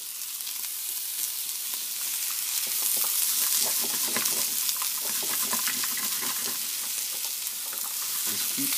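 Vegetables sizzling and frying in a pan over medium heat while being stirred, a steady loud crackle with scraping stir strokes throughout and no talk.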